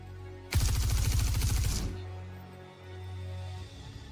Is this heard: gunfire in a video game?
yes